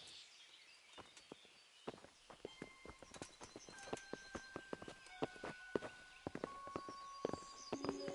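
Steady clip-clop of horse hooves walking in the video game Kingdom Come: Deliverance, a regular rhythm of sharp knocks close by, with a faint whinny near the end.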